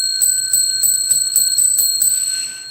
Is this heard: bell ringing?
yes